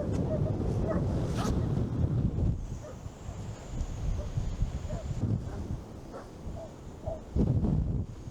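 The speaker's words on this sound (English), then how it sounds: "And the dogs just don't seem to stop. They just go on and on and on and on and on." Dogs bark faintly from a few hundred yards away on a windy fishing shore, repeated distant barks scattered through heavy wind rumble.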